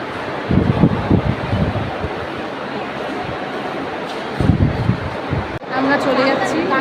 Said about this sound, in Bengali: হাওয়া আছে এখানে বসে